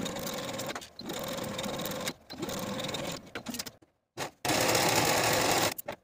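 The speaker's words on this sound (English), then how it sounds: "Sew your yoke to the top of the back bodice with a 5/8 inch seam allowance" A sewing machine stitches a yoke seam onto a back bodice in fast whirring bursts separated by short pauses, the last run long and loud, close by with no talk.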